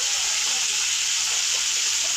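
Constant loud hiss of onions and vegetables frying in a pan, an even sizzle with no pauses or voices.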